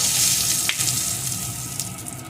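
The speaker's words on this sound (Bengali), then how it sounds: "এখন ওই তেলের ভিতরে ফোড়নে দিয়ে দেবো কিছুটা গরম মশলা গোটা, একটা তেজপাতা," Whole garam masala and a bay leaf sizzle in hot oil as a tempering for a vegetarian pointed gourd dish, giving a steady, close frying hiss with a few small crackles throughout.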